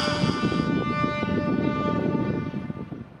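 A train passes at Nakhon Ratchasima railway station, a dense steady rumble of wheels and cars with a high sustained tone, the noise easing slightly near the end; no speech.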